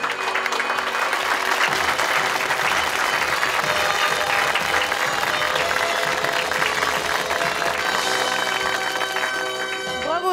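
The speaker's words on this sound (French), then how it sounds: "merci d'applaudir Joseph Martin" Sustained, loud crowd applause fills an indoor equestrian arena at Fontainebleau's Grand Parquet, greeting a new French Pro 2 show jumping champion; the dense clapping runs steadily throughout, with some voices mixed in.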